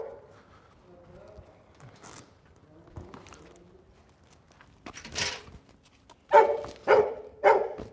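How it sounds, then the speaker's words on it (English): A dog barks three times in quick succession near the end, loud and close, after a stretch of faint background noise and soft murmured voices. "Show the doggy. There he is."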